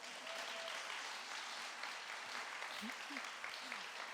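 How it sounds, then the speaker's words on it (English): Audience applause at the Be More Creative Award presentation: a steady, even wash of clapping that fills the whole stretch at moderate level, with a few faint voices calling out beneath it. "Give him another round of applause"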